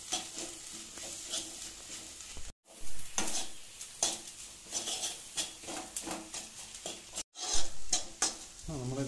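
Turmeric and garam masala roasting in a pan for chicken roast, stirred with repeated metallic scrapes and clinks of a spoon over a low sizzle, two brief silent gaps breaking the rhythm.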